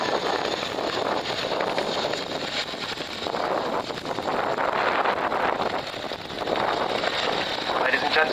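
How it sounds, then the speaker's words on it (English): A military aircraft performing a nose-down quick stop at the RAF Cosford Air Show, its steady roaring drone swelling and fading in the distance under wind buffeting and a public-address commentator talking. "perform a nose down quick stop, proving that although the size and the weight of the aircraft, it can stop in the size of half a football field"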